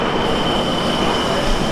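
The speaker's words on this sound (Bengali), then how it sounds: "ওটি ট্রেন না, যেটি ঢুকলো ওটি একটি ইঞ্জিন।" A railway locomotive enters New Delhi station, giving a steady, loud rumble of rolling rail noise with a thin high tone running through it. No voices are heard.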